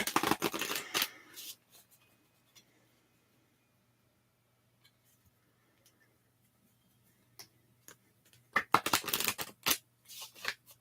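Tarot cards shuffled in two crisp, close riffling bursts, one at the start and a longer run near the end, with a quiet stretch of faint ticks and taps between them.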